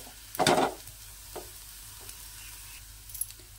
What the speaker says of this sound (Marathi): यामध्येच ना मी घालणार आहे 1 दालचिनीचा तुकडा तोडून, तमालपत्र 2, आणि हे सुद्धा आहे ना खमंग खरपूस भाजून घ्यायचे।